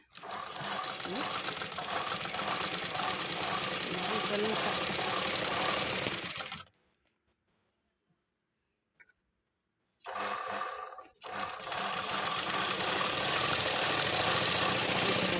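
Sewing machine stitching fabric, its belt slightly loose, running in a fast steady mechanical chatter up close, stopping for a few seconds of near silence, then starting again in short and then sustained bursts.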